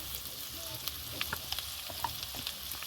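Chopped tomato with cumin and turmeric powder sizzles in a frying pan, a soft steady crackle with light scraping and stirring clicks, no voices over it.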